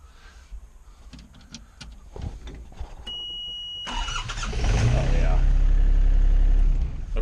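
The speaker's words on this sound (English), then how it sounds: "diesels, as you know, need to spin over pretty quickly to start" A Takeuchi TB135 compact excavator's diesel engine cranking on its starter, quiet clicks and handling noises giving way to a loud, close, steady churning whir, with someone talking over it.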